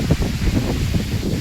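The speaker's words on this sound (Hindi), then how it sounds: "हवा चल पड़ी बहुत ज़्यादा। ये देखो पेड़ कितना तेजी चल रही।" Strong wind gusting through trees as rain clouds gather, a steady broadband rush with leafy rustling, fairly loud and continuous with no talk.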